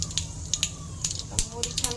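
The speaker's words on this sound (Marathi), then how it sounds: "आता ही मोहरी तडतडते" Mustard seeds spluttering in hot oil for a handvo batter, giving scattered sharp pops and crackles over a low, steady hiss, with a voice faintly present beneath.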